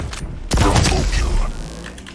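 A railgun fires once in the video game Quake Champions, a single sharp loud blast that trails off into a ringing hum, with a voice talking under it.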